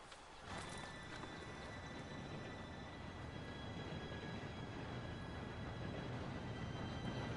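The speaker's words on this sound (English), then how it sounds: "Train should be here" Train in the open-world Western video game Red Dead Redemption 2 approaching, a steady, broad rumble that swells in after a brief quiet start and holds loud and continuous, with hints of clattering hooves mixed in.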